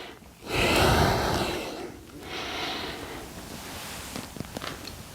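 A person breathing heavily during a slow mobility exercise, a long loud close exhale followed by a softer breath and faint rustling of movement, with no talk.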